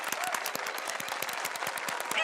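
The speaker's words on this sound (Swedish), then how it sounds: "Ge Pato en applåd för hans fantastiska dans!" Applause in a Pocoyo cartoon, a dense patter of clapping with sharp repeated claps running steadily across the whole stretch, fairly loud and even, with no talking over it.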